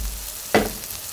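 Korean jeon pancake frying in oil in a pan, a steady soft sizzle with one brief, louder crackling burst partway through.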